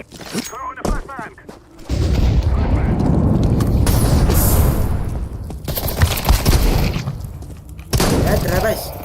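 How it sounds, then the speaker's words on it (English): In Counter-Strike 2, a flashbang bursts amid a loud stretch of gunfire and booming blasts in several bursts, with abrupt gaps between them and a player talking over parts of it. "Throw in the flashbang."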